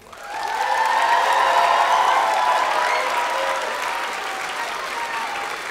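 A school concert audience applauds first graders, sustained crowd clapping that swells quickly and holds steady, loud and dense, tapering only slightly toward the end.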